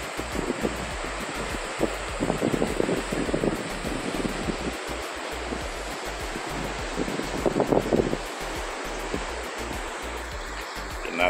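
Sea waves wash steadily against the shore below the cliffs at Praia das Fontes, a broad continuous surf roar mixed with wind buffeting the microphone, with a few louder swells rising and falling throughout.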